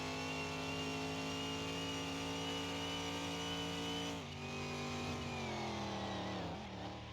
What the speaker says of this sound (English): Third gear still sounds a little tall.